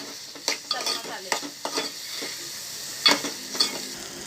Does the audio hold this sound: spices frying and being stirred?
yes